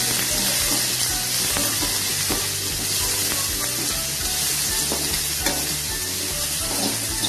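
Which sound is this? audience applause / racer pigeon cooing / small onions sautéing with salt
small onions sautéing with salt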